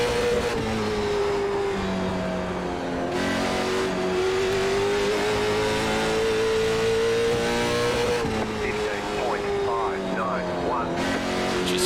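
A ZMax Cars Tour race car engine at Langley Speedway in iRacing drones steadily at high revs throughout, with slight pitch shifts between laps sections, and someone talks over it.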